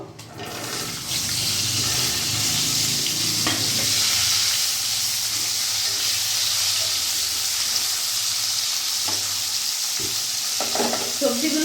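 Vegetables tumble into hot oil in a kadai already tempered with cumin, dried red chillies and bay leaves, raising a loud, steady sizzle that holds through the whole stretch with a few stirring clatters and no talking.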